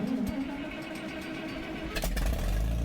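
A Farmall 460/560 tractor engine in the Farming Simulator 19 game, a steady throaty low rumble with a sharp swell near the end, close and continuous, no voices.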